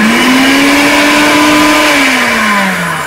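A Moulinex blender motor starts and runs with a steady, loud electric whine that climbs in pitch as it spins up, holds, then sags slightly toward the end.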